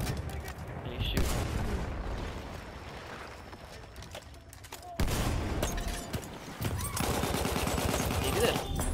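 Gunfire rattles in the video game Battlefield 1, with dense bursts of shots and booming impacts in loud stretches separated by a quieter lull, while a voice talks over the action.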